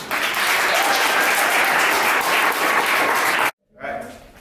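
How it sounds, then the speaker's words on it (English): A warm round of applause fills a poetry month closing reception at the Paterson Museum, dense and loud for several seconds before cutting off abruptly, then a brief softer burst of clapping returns. "give a warm round of applause"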